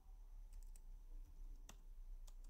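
Keys on a computer keyboard typed a few at a time, faint scattered clicks over a steady low room hum.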